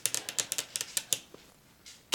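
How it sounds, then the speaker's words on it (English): Freshly done fingernails click and tap rapidly on small plastic bead boxes, a quick uneven run of crisp close clicks followed by a pause and one last sharp tap. "Sorry if you don't like clicking of nails."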